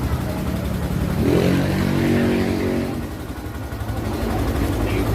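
A Yamaha YTX125 motorcycle engine runs close by at a continuous, loud, rough rev while warming up. The pitch swells slightly in the middle and holds steady throughout.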